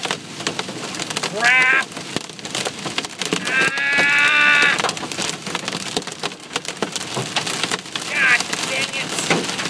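Golf ball size hail pelts a car driving through a storm as a tornado begins, a dense, irregular clatter of hard impacts on the body and glass, with a man's loud, startled exclamations breaking in over it.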